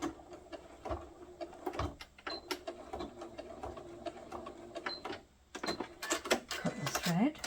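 A sewing machine back stitching a fabric neck snood: short bursts of fast mechanical whirring and clicking with brief pauses, close and fairly quiet, under intermittent talking.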